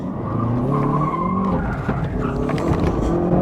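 A Hyundai i30N being flung through a handbrake turn on a motorkhana course gives a sustained, loud tire squeal and skid over a steady engine note. It runs close and continuous for the whole stretch, with no talk over it.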